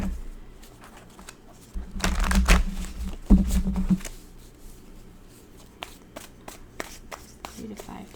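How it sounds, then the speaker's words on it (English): Cards are shuffled close by in a quick riffling burst, followed by scattered soft taps and flicks of handling. "I'm going to shuffle this one more time"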